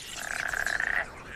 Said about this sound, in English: Frogs are breeding too, and they join in the chorus.